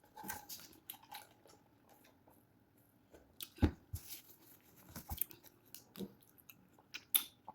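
Someone chewing a mouthful of fried rice, close up and quiet, with soft wet crunches and smacking bites at an irregular pace.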